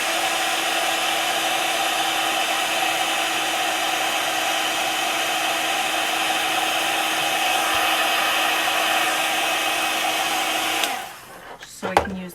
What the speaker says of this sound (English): I'm going to hit it with the heat gun for a second